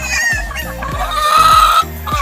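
A hen clucks loudly and repeatedly at close range, a steady run of short throaty clucks with a higher drawn-out note in the middle.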